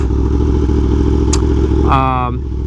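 A Yamaha R1M or BMW S1000RR sport motorcycle on a ride, its engine droning loudly and steadily with rushing wind, a rising whine and clatter near the end, while a rider talks over it.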